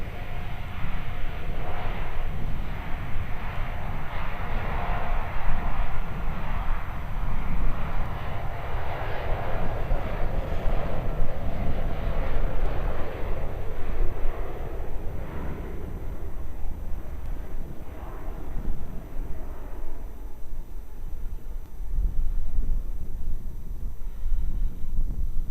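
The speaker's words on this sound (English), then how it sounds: "Jetstar 1 rolling for Honolulu. Here, runway 34 at Melbourne." A Jetstar airliner rolls for takeoff on runway 34 at Melbourne Airport, its jet engines a loud, sustained roar with wind buffeting the microphone, the rumble swelling and then gradually fading as the aircraft climbs away.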